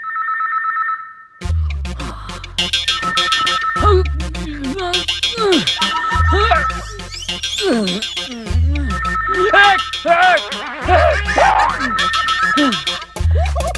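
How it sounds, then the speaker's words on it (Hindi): A mobile phone rings with a repeating electronic melody, heard under excited, overlapping talk and background music that carry on throughout. "लो फोन की घंटी बंद हो गई"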